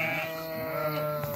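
Sheep bleating in a large flock of about 350 animals being offered for sale, several overlapping bleats close by and fairly loud, with constant flock noise beneath.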